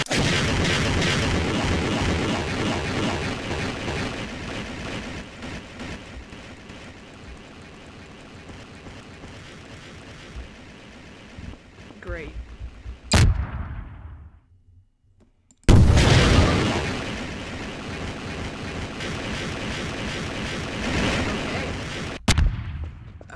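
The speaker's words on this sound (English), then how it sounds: "we might as well use the RPG and shoot it all down" RPG rocket explosions in Garry's Mod, a heavy rumbling barrage of game booms and blasts that dies down briefly, then returns with sharp loud impacts.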